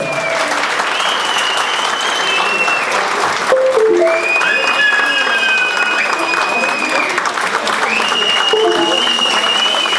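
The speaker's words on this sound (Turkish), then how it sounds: "Çok güçlü alkış istiyorum buraya gelirken." Loud, sustained crowd applause at an album launch night, with cheering and whistles throughout, dense and steady, with voices mixed into the roar.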